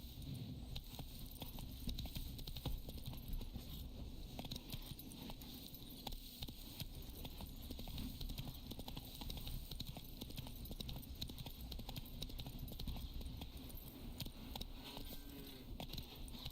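Roach, a horse in The Witcher 3, gallops steadily with continuous clip-clop hoofbeats in an even rhythm, close and moderately loud over a constant game ambience throughout.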